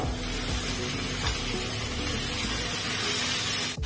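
Marinated chicken, rested for an hour, hits hot tempering oil for a bird's eye chilli chicken dry, giving a loud, steady, close sizzle and hiss that runs unbroken throughout.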